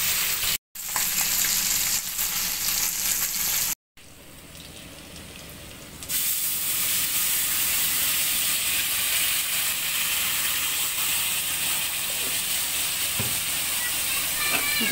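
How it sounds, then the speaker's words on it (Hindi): Mixed vegetables frying in a pan, a steady, loud broadband sizzle that brightens and intensifies partway through and keeps going, with brief dropouts near the start. "यहाँ मिक्स सब्जी बन रहा है, फ्राई हो रहा है अभी।"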